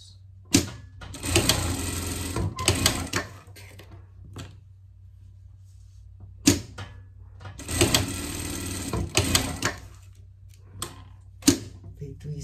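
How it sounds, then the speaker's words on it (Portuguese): A sewing machine stitches a seam on a pet jacket in three separate runs of rapid, buzzing mechanical chatter, each a second or two long, with quiet pauses and small clicks between them, close by. "Aqui a gente vai dobrar aqui e passar uma costura aqui, tá?"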